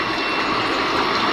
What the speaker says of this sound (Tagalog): dyan po dinidrain yung tubig para malinisan